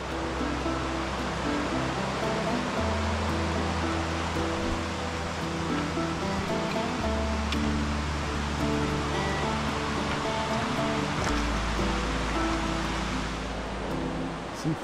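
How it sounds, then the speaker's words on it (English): Palmer Creek flows through forest in the Cataloochee area of the Great Smoky Mountains, a steady loud rushing wash of water that continues without pause. "Palmer Creek down there's really pretty."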